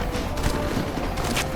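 The NCR assault on a prison in Fallout: New Vegas fills the air with dense, continuous gunfire and explosions, a loud rattling fusillade that never lets up, with no talk over it.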